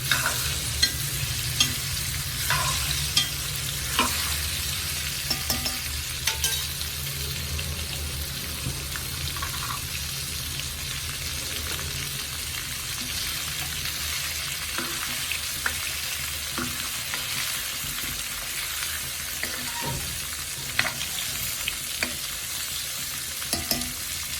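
Amla, Indian gooseberries for pickle, frying in a pan while being stirred, giving a steady close sizzle broken by repeated scraping and clinking strokes throughout, with no voices.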